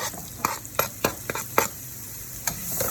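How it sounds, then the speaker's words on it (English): Onions sizzle in a pan that already holds roasting cumin. A steady hiss runs underneath, broken by a series of sharp scraping stirs, close and fairly loud. "Add the onions."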